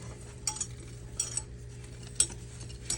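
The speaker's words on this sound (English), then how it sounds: "We're going to add in a cup of sugar. And we're going to stir this around" A spoon stirs a cup of sugar into blackberries in a pot for cobbler, giving several soft scraping strokes with faint clinks against the pot over a steady low hum.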